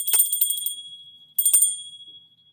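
Two small metal bells struck one after the other, each giving a bright, high ringing strike that rings out and decays, with a pause between; close, clear and alone with no talk.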